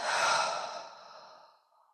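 One long, soft exhale of breath, close and airy, loud at first and then trailing off over about two seconds, with no words over it.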